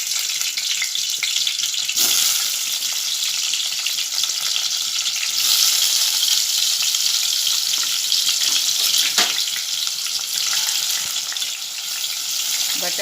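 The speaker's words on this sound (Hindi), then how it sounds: "अब मैं इसमें बटाटे डालकर गोल्डन रंग में तलकर लूँगी।" Potatoes frying in hot sweet oil on a gas stove over medium heat, a loud, steady close-up sizzle with brief surges and occasional clinks.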